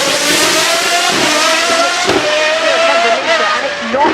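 A McLaren Solus GT's 5.2-liter naturally aspirated V10 revs hard and close, a loud high-pitched wail that rises and shifts through several pitch steps, with a brief dip midway.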